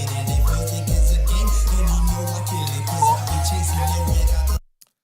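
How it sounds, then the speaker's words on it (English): A karaoke-style rip of a song's beat with the midrange muted, leaving booming sustained bass notes and crisp high percussion ticks; steady loud groove for about four and a half seconds, then cutting off abruptly with no talking. "that's basically how you get that karaoke version of the beat, basically ripping the beat from the song"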